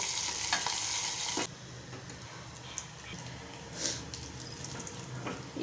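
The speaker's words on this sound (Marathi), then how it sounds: "इथे आपल्याला लसूण हलकासा लाल रंगाचा होईपर्यंत परतून घ्यायचा आहे" Garlic sautés for a dal with spinach, a faint close sizzle that starts loud and then settles lower, with a few soft spatula scrapes scattered across it.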